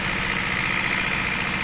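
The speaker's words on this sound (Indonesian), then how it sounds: "Suaranya agak keras teman-teman ya, tapi mesin dieselnya pakai stiker 2 seperti genset." A loud diesel engine runs steadily like a generator, a dense, continuous rumbling drone with mechanical vibration, close and unbroken throughout.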